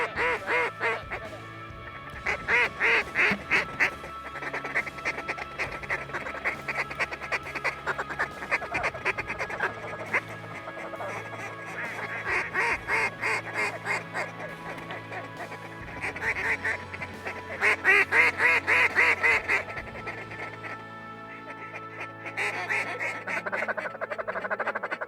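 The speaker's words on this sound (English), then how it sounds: "a lot of ducks feeding out there" Ducks feed across a flooded, muddy bean field with sheet water, a dense continuous chorus of quacking and chattering calls at middle distance that swells in louder bursts throughout.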